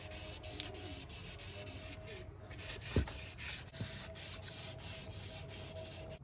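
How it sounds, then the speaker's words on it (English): Rapid rhythmic rubbing strokes of wet sanding primer with 600-grit paper and water go on continuously up close on a Mustang part, with a soft scratchy texture and an occasional faint knock. "I'll sand it with water, let it dry again"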